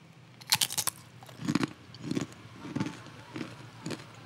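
Tempeh chips crunch between the teeth in a close, rhythmic series of about six bites and chews, crisp sharp cracks over a quiet room background.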